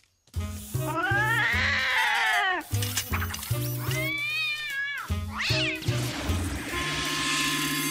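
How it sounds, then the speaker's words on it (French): A cat meows loudly and close up several times, with long, wavering, drawn-out yowls separated by short pauses and other brief tones. "J'adore ce chat."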